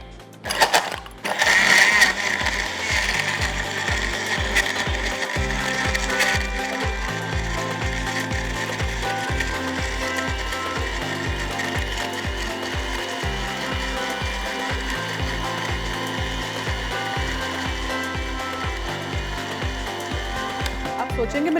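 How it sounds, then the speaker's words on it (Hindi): A kitchen blender grinds whole lemons with ice, sugar and lemon juice, a loud steady whir with rhythmic rattling chunks of ice, running continuously up close with no one talking. "and we will add this चीनी और लेमन जूस का मिक्सचर"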